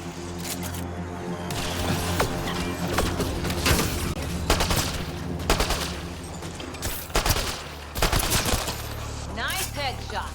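Bursts of gunfire from a Mass Effect Andromeda firefight, loud irregular volleys and sharp single shots spread across the stretch, with a voice briefly heard among them.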